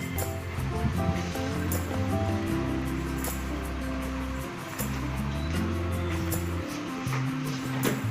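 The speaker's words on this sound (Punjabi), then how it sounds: "ਆਪਾਂ ਇੱਕ ਚਮਚਾ ਜੀਰੇ ਦਾ ਪਾਤਾ ਜੀਰੇ ਨੂੰ ਚੰਗੀ ਤਰ੍ਹਾਂ ਭੁੰਨ ਲਵਾਂਗੇ" Cumin seeds sizzle and crackle in hot desi ghee in a pan, a continuous loud frying hiss with a low hum underneath.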